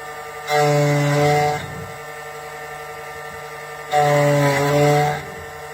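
Key cutting machine cutting a cheap car key blank: two separate bursts of a steady motorized whine with a grinding edge, each lasting about a second, over a constant background hum.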